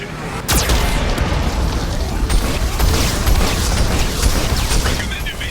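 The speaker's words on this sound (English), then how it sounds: "Warning, Geth cannon is locking on our location." Geth cannon fire from the video game Mass Effect 2: a sharp blast opens with a loud boom, followed by a dense, sustained rumble of mechanical noise and scattered crackling bursts that stays heavy throughout.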